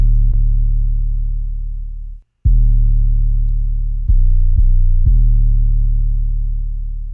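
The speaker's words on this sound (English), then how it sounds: "we had an 808, and the 808 is playing the most simple notes ever." Deep 808 bass sustaining long, simple low notes in a beat, loud and humming, with a brief cut and a few quick retriggered notes before ringing out.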